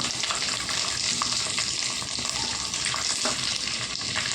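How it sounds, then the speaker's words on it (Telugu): Sliced onions fry in a hot pan for a spinach curry, giving a steady, dense close sizzle with faint stirring scrapes throughout. "ఉల్లిపాయలు వేసుకుందాం."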